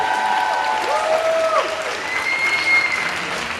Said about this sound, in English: big round of applause for Gary Davis, hotel director